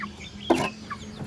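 Chickens on a backyard farm with a short, near cluck standing out over faint background clucking and ambient noise.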